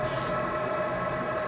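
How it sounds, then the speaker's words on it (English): A home distilling boiler warming up, with a steady humming drone and a sustained tonal whine, constant and close, no talking. "That's the sound of my boiler warming up."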